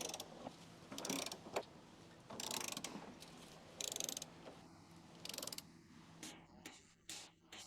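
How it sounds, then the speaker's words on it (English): A torque wrench with an 18mm socket works loose the rear subframe bolts on a Chrysler, giving bursts of close ratcheting clicks with short pauses between strokes. "Now use your 18mm socket with a torque wrench to loosen the rear subframe bolts."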